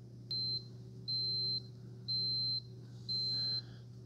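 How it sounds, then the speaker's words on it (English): A Cuisinart DGB-550BKP1 Grind & Brew 12-cup coffee maker signals the end of brewing with four evenly spaced, high, steady electronic beeps, each about half a second long, heard close over a faint background hum. "the beeps at you to let you know it's done"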